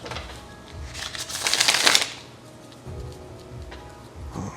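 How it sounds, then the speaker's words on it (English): A deck of tarot cards riffled and shuffled in a quick burst of crisp flapping, then softer handling noises, close up with no voices. "Get one more good pre-shuffle in before we start getting into it."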